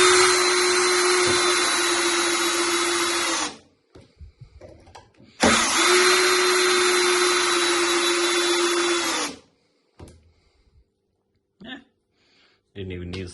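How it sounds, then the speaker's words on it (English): A Makita DHP482 cordless drill runs at slow speed in two long, steady bursts of loud motor whine, each a few seconds long, separated by a pause with faint clicks and handling sounds. "This is the old drill, mind you. This is the DHP482."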